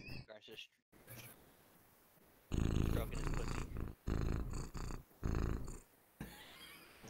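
A cat named Boomer purrs loudly close to the microphone in long rumbling bursts with short breaks between breaths, and people talk over parts of it.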